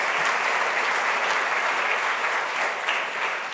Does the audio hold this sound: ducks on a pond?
no